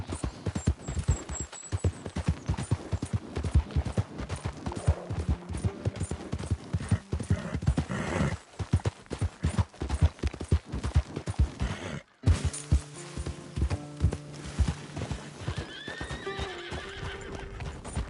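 Horse galloping in the video game Red Dead Redemption 2, rapid rhythmic hoofbeats that are loud and close, with occasional whinnies and a short break partway through.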